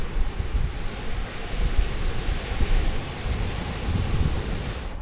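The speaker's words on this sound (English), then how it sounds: "We slept really well with the sound of the waves." Ocean waves wash steadily onto a beach along Highway 5 in Chile's Atacama region, a soft continuous surf hiss with gentle swells, moderately quiet and without talk.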